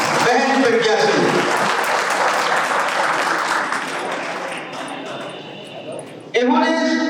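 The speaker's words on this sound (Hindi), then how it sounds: "इनके लिए जोरदार तालियां बजाएं।" A crowd at a chemistry coaching institute's annual function in Rath breaks into sustained loud applause, with a voice over the public address heard at the start and end.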